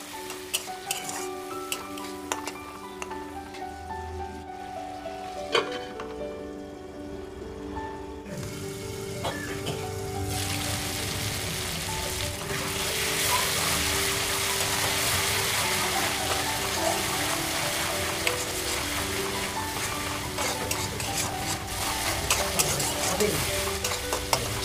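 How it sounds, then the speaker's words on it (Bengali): Mustard fish curry masala sizzles in a pan as water is added and stirred, with close scraping over frying that turns into a broader, louder hiss partway through, and no talking. "এখন এর মধ্যে অল্প একটু জল দিয়ে নাড়াচাড়া করে কিছুক্ষণের জন্য ঢাকা দিয়ে রাখবো"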